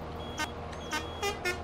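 A vehicle horn in Farming Simulator beeps in short bursts, four or five quick toy-like bips at irregular spacing over a steady low engine hum, close and moderately loud, with no talk.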